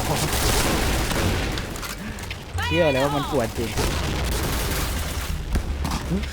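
Grenade blasts in a video game, booming bursts within a dense wash of gunfire and battle noise, with a person talking over it throughout.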